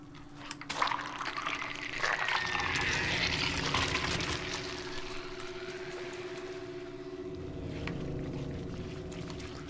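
Water sloshes and splashes steadily in Little Nightmares, Secrets of the Maw DLC, a continuous, moderately loud wash of liquid noise with no voices.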